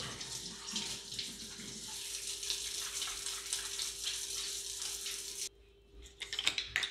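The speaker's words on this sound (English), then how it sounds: "Now I'm gonna wash my hands real quick from the meat" A kitchen tap runs steadily close by while hands are washed after handling meat. The splashing continues for several seconds before it cuts off, followed by faint clatter.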